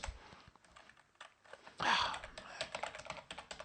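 A computer keyboard is typed on to enter a command, a run of quick, close key clicks with a louder cluster in the middle, under a faint background voice.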